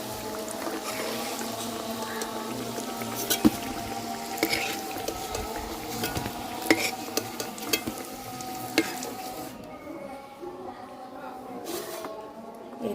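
Grated radish fritters frying in hot oil in a village Bengali kitchen: a steady crackle with occasional stirring clinks, heard close and continuous.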